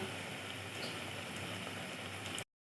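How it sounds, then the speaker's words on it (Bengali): Pumpkin flowers for fritters fry in hot oil with a faint, steady bubbling hiss that carries on evenly, then cuts off abruptly into silence. "এভাবে আমি এক এক করে ফুলগুলো ভেজে নিব"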